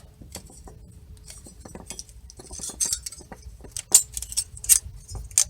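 New metal brake pad clips on a 2016 GMC Terrain front caliper bracket click and clink in place, with scattered light metallic taps and a few sharper snaps toward the end, close and fairly quiet.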